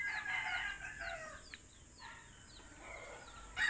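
A native chicken gives soft, faint clucks and short calls, several in a row, heard alone with a light background hiss.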